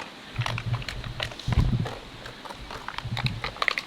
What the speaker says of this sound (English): And that noise you can hear is Bruno running around with a water bottle.